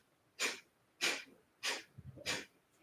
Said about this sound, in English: And so let's begin by breath of fire.